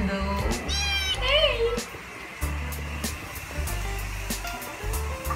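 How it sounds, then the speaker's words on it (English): A pet cat meows several times in a small home kitchen after waking up, with rising, wavering calls near the start, followed by people talking over a steady background hum. "Oh, our cat is now awake."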